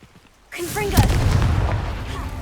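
A Confringo fire-blast spell cast in Hogwarts Legacy bursts in suddenly with a heavy booming blast, then rolls into a sustained rumbling, crackling roar, loud and close, with a brief voice over the start.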